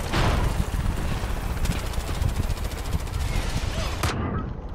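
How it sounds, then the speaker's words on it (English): Rapid bursts of automatic gunfire in Far Cry 5, a dense rattling volley sustained for several seconds, loud and close, cutting off abruptly near the end. "he's shooting"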